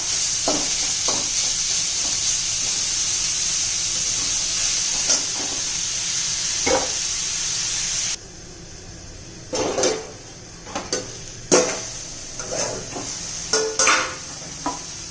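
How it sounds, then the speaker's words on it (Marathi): Garlic and masala sizzle loudly in a pan for about eight seconds, then the hiss drops away and scattered scrapes and clinks of a spoon stirring against the pan follow; no one speaks. "लसूण घालायचा आणि सर्व चांगलं व्यवस्थित परतून घ्यायचं चांगला मसाला भाजून घ्यायचा आहे"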